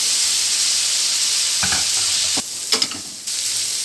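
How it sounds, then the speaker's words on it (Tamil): Cauliflower is tossed into masala in a pan on a high flame, giving a steady loud sizzle and hiss, with a few clattering stirring sounds partway through and no talk. "மறுபடியும் அடுப்பை வந்து ஹை ஃப்ளேமில் வச்சுட்டு வடி வடித்து வச்ச காலிஃப்ளவரை சேர்த்துக்கிறோம்"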